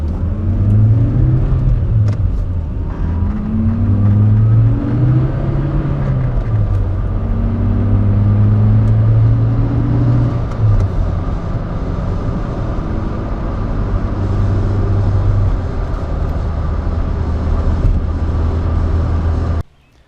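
A Toyota MR2 sports car pulls out onto the road and drives on, its warmed-up engine droning loud and steady with rising and falling pitch as it revs through the gears, then cutting off abruptly at the end.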